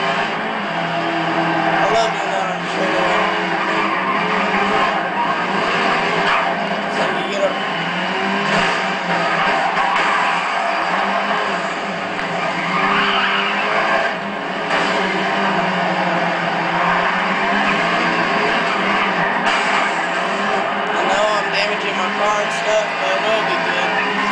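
Race car engines roar and rev continuously through a GRID demolition derby, with cars accelerating and passing close by while someone talks over the engine noise throughout.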